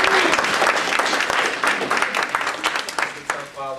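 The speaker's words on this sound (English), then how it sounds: "give them another round of applause" Loud, dense applause from an audience filling the space, gradually thinning toward the end as a voice begins speaking.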